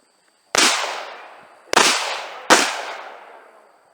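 Three sharp gunshots fired on a boat, spaced about a second apart, each loud and close with a crack followed by a decaying echo over open water.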